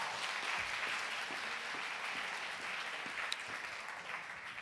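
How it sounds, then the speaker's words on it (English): Audience applause, a steady crowd of clapping hands filling the room, moderately loud and continuous throughout. "Give them a round of applause."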